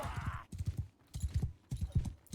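Horse hooves gallop in Mount & Blade 2: Bannerlord, with quick clip-clop beats landing in tight repeated bursts, close and clear, with no talking.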